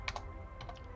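Quick keystrokes on a computer keyboard as a numeric code is entered, a short burst of a few clicks, then a second cluster, close and moderately loud with no voices.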